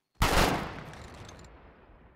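A firing squad fires a single simultaneous rifle volley in a video game, sounding as one sharp, loud, near crack that fades into a trailing echo over about two seconds.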